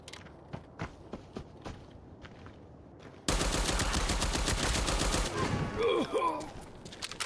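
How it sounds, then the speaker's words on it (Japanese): Gunfire and footsteps from a video game come through a Fifine AmpliGame gaming headset: a few sparse, faint clicks and steps, then a sudden dense barrage of rapid automatic shots with mechanical rattles, loud and sustained to the end. "足音はまあまあ、最低限聞こえる"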